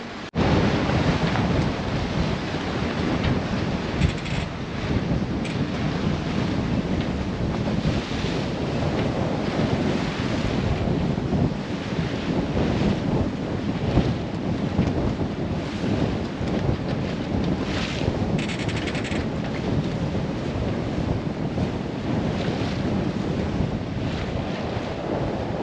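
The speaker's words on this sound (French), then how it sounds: "Je vous montre, il va y avoir du vent" Strong wind roars against the microphone and waves wash around a sailboat under reduced sail, loud and continuous throughout with no talking.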